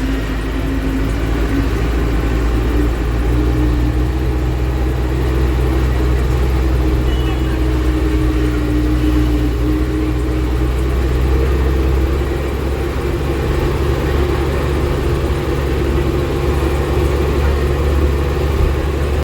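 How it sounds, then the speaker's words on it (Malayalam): A local bus engine drones on the road to Kalpa village in Himachal Pradesh, a steady close low rumble that holds throughout with people talking over it. "ഇത് കൽപ്പ വില്ലേജിൽ കൊണ്ട് ബസ്സാണ്, ഇത് ലോക്കൽ ബസ്."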